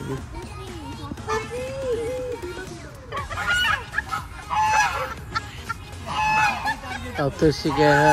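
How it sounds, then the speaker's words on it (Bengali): Ducks chase about on the grounds of a jungle resort near Simlipal in Odisha, honking and quacking loudly and repeatedly at close range while people talk in the background. "হাঁস তাড়া করেছে।"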